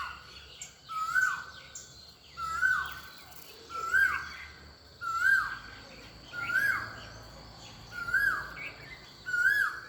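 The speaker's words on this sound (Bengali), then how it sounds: "এই যে কোকিল ডাকছে" A cuckoo calls over and over in an even rhythm, a rising whistled note roughly every second and a half, clear and moderately near over quiet outdoor ambience.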